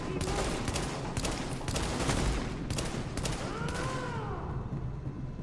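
Rapid bursts of video game gunfire from a shooter match, dense and loud with repeated sharp shots over several seconds, tapering toward the end.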